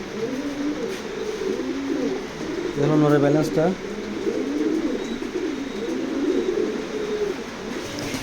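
A young black female racing pigeon and others in a loft coo in low, throaty, continuous rolls close by, while someone talks over them.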